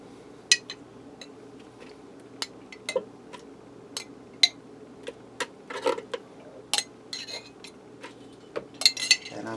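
Lasagna sauce spread across a pan with a metal utensil, producing scattered light clinks and taps against the pan over a low background hum, with faint talk at times.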